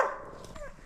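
A hunting dog barking at a sable in snowy Siberian forest, a single short distant bark fading out against faint wind.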